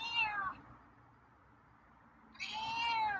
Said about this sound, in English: got some meows for me tonight